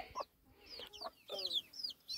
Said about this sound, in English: gamefowl were originally bred to cockfight